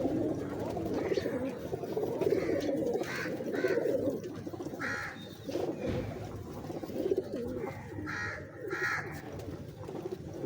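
Imam Din breeder pigeons coo in soft, repeated rounded calls from close by, with several birds overlapping in a steady murmur of cooing and occasional wingy rustles throughout.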